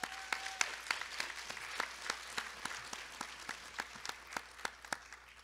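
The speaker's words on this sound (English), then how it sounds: "Can we clap it up for that?" Sparse applause from a modest audience at a university coronation ceremony, individual claps distinct and fairly steady, at moderate distance with no talking over it.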